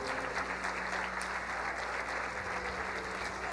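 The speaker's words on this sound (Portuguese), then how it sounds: "gostaria que vocês recebessem os apóstolos com um aplauso carinhoso" A church congregation at a Resurrection service applauds the apostles with steady, dense clapping throughout, a low constant hum underneath.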